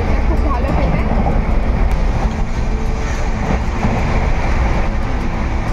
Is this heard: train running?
yes